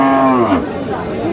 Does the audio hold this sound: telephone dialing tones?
no